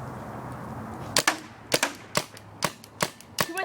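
A paintball gun fires about seven sharp, dry pops at an uneven pace, close and fairly loud, after a quiet stretch of background hiss with no voices.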